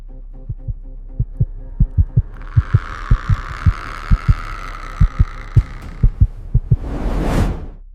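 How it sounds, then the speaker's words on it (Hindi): Heartbeat sound effect in a haunted-doll horror narration: loud, steady thumping beats in an even rhythm, joined midway by a low droning hum and ending in a rising whoosh. "उसकी धड़कन आज भी सुनाई देती है।"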